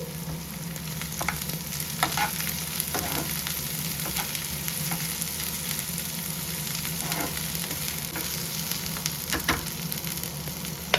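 Chopped cabbage fries in a pan for restaurant-style hakka noodles, producing a steady, dense sizzle with a low rumble, punctuated by occasional faint stirring knocks, with no talking.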